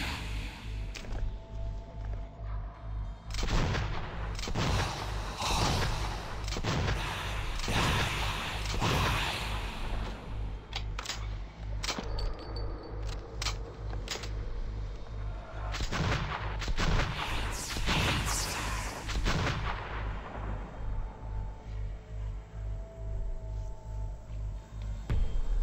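Gunfire in the video game Metro 2033 sounds as a series of loud, sharp shots, some in quick bursts, others spaced apart, over a low droning game soundtrack.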